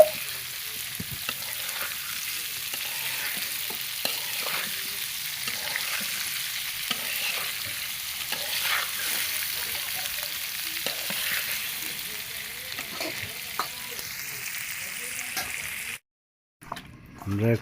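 Lightly boiled radish and rohu fish pieces marinated with salt and turmeric fry in oil, a steady dense sizzle with scraping stirs throughout, close and continuous before a sudden cut near the end.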